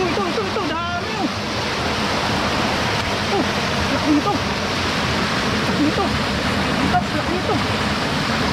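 A strong river current during night fishing, a loud steady rushing wash of water close by, with a voice speaking over it at moments.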